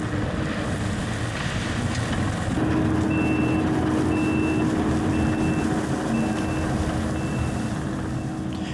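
A gravel dump truck reverses on a driveway job, its backup alarm beeping steadily about once per second over a loud, continuous engine rumble and wind noise.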